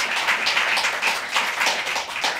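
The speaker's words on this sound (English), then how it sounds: "Round of applause for Eloise, please" Steady applause from an audience at a poetry reading, dense overlapping claps filling the space at a fairly loud level, with no talking.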